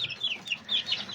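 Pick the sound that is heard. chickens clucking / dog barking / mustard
chickens clucking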